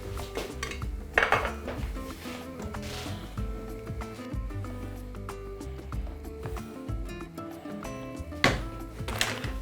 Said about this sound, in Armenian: արգանակ ենք ավելացնում